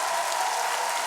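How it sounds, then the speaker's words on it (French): Audience applause at a French television singing show, a dense continuous wash of clapping for a brief moment, loud and close with no voices above it. "Applaudissements pour Jarry, Marianne James, Iris Pitnar et Shine"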